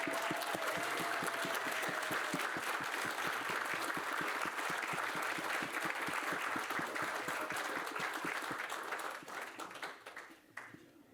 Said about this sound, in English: we're going to clap her down the carpet, folks